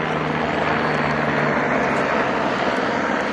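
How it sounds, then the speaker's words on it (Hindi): A helicopter flying past near Kedarnath temple in the Uttarakhand mountains, a steady loud roar of engine and rotor wash that fills the whole stretch without letting up. "ऑटो रिक्शे की तरह ही जा रहे हैं यहाँ पे हेलीकॉप्टर।"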